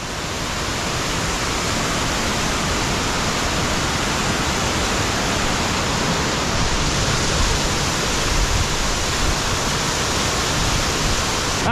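Waterfall roaring at a river crossing on the Pacific Crest Trail, a loud, steady wall of rushing water that stays constant throughout with no voices.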